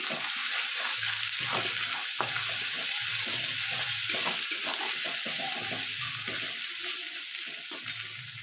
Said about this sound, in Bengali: আদা বাটা, হলুদ গুঁড়ো, লঙ্কা গুঁড়ো, কাশ্মীরি লঙ্কা গুঁড়ো দিয়ে আমি সব একসঙ্গে দিয়ে ভালো করে এটা মিক্স করে নেব